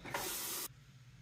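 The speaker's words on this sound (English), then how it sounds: "And then I will rinse the razor and go over my neck one more time." Running water sprays over a Gillette Red Tip safety razor during a rinse, a short loud hissing burst of about half a second that cuts off abruptly into quiet room tone.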